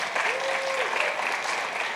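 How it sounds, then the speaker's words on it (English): A crowd at a quarterly business breakfast on FIFA World Cup 26 opportunities gives loud, sustained applause for event organizer Gabby Gordon, with a brief whistle rising over the clapping. "let's give Gabby a round of applause."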